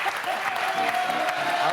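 A crowd applauds loudly and steadily, dense clapping filling the whole moment with no pauses.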